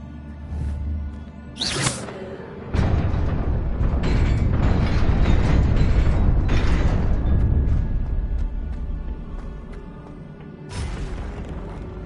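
Incendio fire spell cast in a Wizarding World video game, a whooshing, roaring burst of flame that swells and holds for several seconds before fading, framed by sharper magical cracks before and after.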